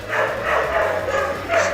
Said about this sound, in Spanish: empezaron a ladrar los perros de mi vecino